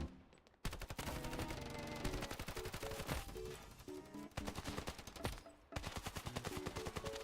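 Rapid automatic gunfire from the mobile shooter Standoff 2 rattles in loud, dense bursts with brief gaps, game weapon sounds close and punchy throughout.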